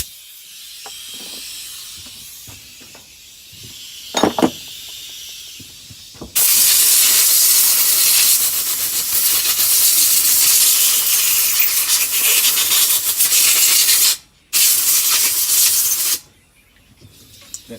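Compressed air blows dirt off Stihl MS460 chainsaw parts, starting with faint hissing and a couple of short bursts, then a loud, sustained blast with a brief break before stopping.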